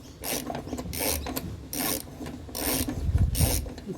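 A ratchet clicks in repeated bursts while two men work on a lawnmower, each stroke a rapid metallic rasp, about five pulls in steady rhythm, close and fairly loud.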